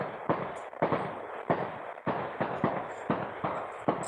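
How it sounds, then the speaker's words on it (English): Fireworks explode in the background as a steady series of sharp, booming bangs roughly every half second, moderately distant and with no voices over them. "if you hear kabooms and all that in the background, it's fireworks."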